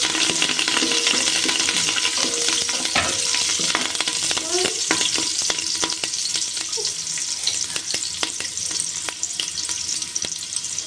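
Curry leaves fry hard in hot oil in a home kitchen pan while making Wayanadan thengachor, a steady dense sizzle with scraping stirs and small metallic clinks throughout, close and fairly loud.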